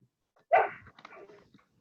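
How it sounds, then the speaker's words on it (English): A single dog bark rings out close, followed by a softer short whine or grumble, with silence around it. "it sounded like you were barking"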